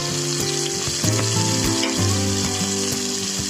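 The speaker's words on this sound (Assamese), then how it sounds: "এতিয়া সেইখিনি তেলতে মই পিঁয়াজ, হালধি, নিমখ আৰু আদা নহৰু পেষ্ট একেলগে দি দিম।" Onion, turmeric, salt and ginger-garlic paste frying together in hot oil for a fish gravy, giving a steady close sizzle with a few stirring clatters and no talk.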